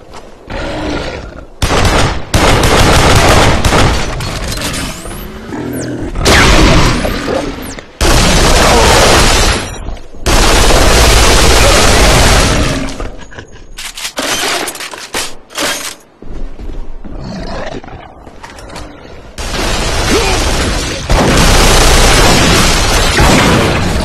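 Loud bursts of gunfire and booming explosions from the shooter game Duke Nukem Forever, arriving in dense repeated volleys with brief gaps of quiet between them.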